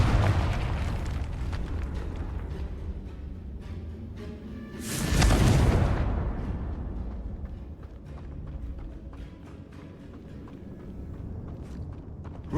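A Confringo spell explodes in a Harry Potter video game, a loud broadband burst with a roaring tail that swells and fades over a couple of seconds amid a busy background of footsteps and game ambience.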